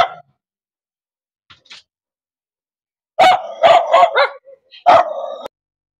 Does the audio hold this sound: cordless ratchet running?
no